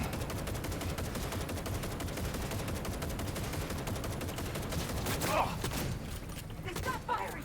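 Continuous enemy gunfire in Cyberpunk 2077, a dense stream of rapid automatic shots under a noisy combat backdrop, fairly steady throughout with a louder burst near the end.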